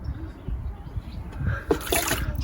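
Dirty brown water is poured out of a container, a splashing, trickling pour that swells near the end of the clip, fairly close and unaccompanied by talk.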